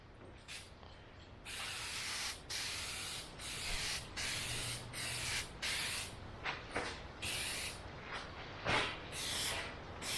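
An aerosol can sprays a light first coat onto a Jeep Wrangler instrument cluster lens in a series of close, hissing bursts, each a second or so long, separated by brief pauses.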